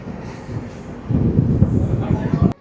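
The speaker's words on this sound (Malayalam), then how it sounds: "കണ്ണൂരിൽ നിന്നും അങ്ങനെ നമ്മുടെ ട്രെയിൻ എടുത്തു." Mangalore–Rameswaram Express pulling out of Kannur station, a low steady rumble of the moving train that swells and grows louder midway before cutting off abruptly.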